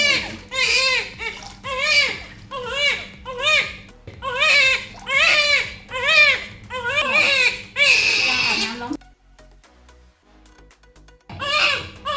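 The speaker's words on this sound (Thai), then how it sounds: "น้องจะร้องดังมาก ๆก็ร้องเป็นปกตินะ" An infant cries loudly in repeated wailing bursts while being bathed and shampooed, each cry close and strained, breaking off briefly before starting up again.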